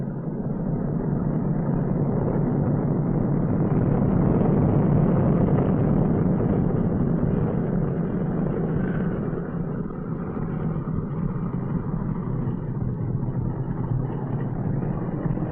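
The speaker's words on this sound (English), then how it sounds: "Steer with the outboard engines, not the brakes." Four-engine B-29 bomber taxiing and turning on a runway, steered with its outboard engines; a steady, heavy low drone of piston engines fills the whole stretch with little change in level.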